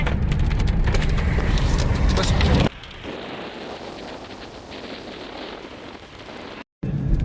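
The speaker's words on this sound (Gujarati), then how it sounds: "વાવળ એટલી ઉપડી છે, વરસાદ ચાલુ થઈ ગયો છે" Steady rain and gusting wind roar against the microphone, loud at first, then dropping to a softer, even patter of rain.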